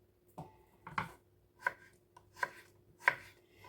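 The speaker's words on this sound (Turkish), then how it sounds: "Evet bu şekilde doğradım patateslerimi." A knife chops through potatoes on a cutting board, several separate thuds at an uneven, unhurried pace, fairly quiet and close.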